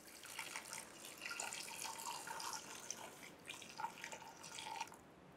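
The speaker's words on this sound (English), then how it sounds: "add water to the pot." Water is poured carefully from a jug into a pot of herbs. A soft, continuous trickle and splash runs for several seconds at a low level, with no talk.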